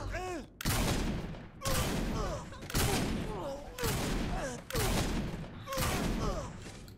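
Repeated shotgun blasts in the video game Saints Row IV, about six loud booming shots at roughly one-second intervals, with a voice talking between them.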